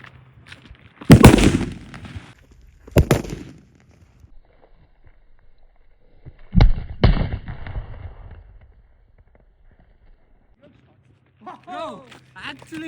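Firecrackers set off under Crocs shoes in an outdoor experiment go off in several sharp, loud blasts spread apart over the span, separated by quiet gaps, with people talking near the end.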